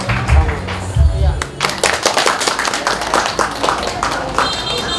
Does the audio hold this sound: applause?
yes